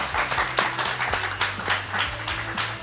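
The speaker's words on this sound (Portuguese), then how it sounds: "Palmas para Paulo Sousa." Studio audience applause for a guest on a Portuguese television talk show, a steady wash of clapping lasting about three seconds at moderate level, with low voices and hum beneath.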